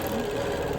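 A sewing machine quilting along the spine of a Quilt of Valor, running in a steady, close, continuous hum with no pauses and no voices.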